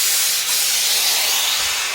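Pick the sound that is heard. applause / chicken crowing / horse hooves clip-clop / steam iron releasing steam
steam iron releasing steam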